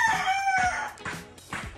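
A rooster crows once, a bright drawn-out call, followed by a couple of short clucks from nearby fowl.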